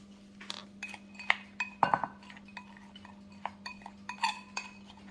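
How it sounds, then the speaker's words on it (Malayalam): Crushed almonds and nuts are mixed into maida flour in a bowl, with light clinks and taps of a spoon against the bowl coming in irregular bursts over a low steady hum. The sounds are close and fairly quiet. "അത് നമ്മൾ എടുത്ത് വെച്ചിരിക്കുന്ന മൈദയിലേക്ക് ചേർത്തൊന്ന് മിക്സ് ചെയ്തെടുക്കണം"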